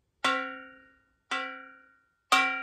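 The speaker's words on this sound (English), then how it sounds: "inside, on the side of the saucepan because I think it makes quite a nice sound like this." Three separate metallic strikes on the side of a saucepan, evenly spaced about a second apart, each ringing out and fading like a bell, heard alone and close.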